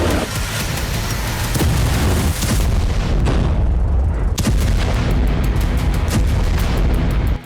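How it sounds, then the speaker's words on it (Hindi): Explosions and gunfire during an Israeli army raid on Jenin refugee camp in the West Bank: loud, dense rumbling blasts and sharp bangs with heavy low booming, one big detonation standing out midway, continuous and close. "धमाकों की आवाज, गोलियों की तड़तड़ाहट और इजरायली सैनिकों का एक्शन"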